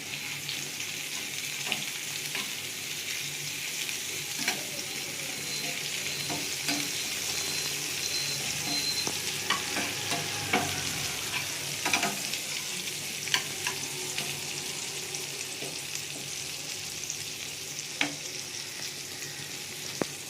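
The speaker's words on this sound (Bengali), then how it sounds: "পেঁয়াজটা একটু ভাজা ভাজা করে নেবো।" Chopped onion fries in oil in a kadai, making a constant close-up sizzle broken by irregular scraping and clicking strokes as it is stirred, with no talking throughout.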